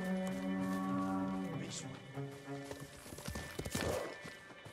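A horse in the video game Ghost of Tsushima clip-clops along with a distinct whinny, its hoofbeats fairly close and uneven beneath game music and someone talking.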